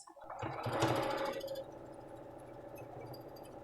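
A sewing machine stitches a seam on a diamond-pattern quilt block, giving a short whirring run that starts abruptly and then settles into a fainter steady hum, quiet and close with no talk.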